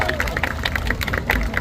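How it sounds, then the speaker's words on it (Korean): Crowd applause for a performance by young workers at an outdoor rally in a public square, a brief dense patter of many hands with crowd noise throughout. "네, 멋진 공연 보여준 청년 노동자들께 다시 한번 큰 박수"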